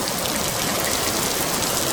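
Steady rain falling, a dense continuous hiss of drops with no breaks, loud and close, with no voices.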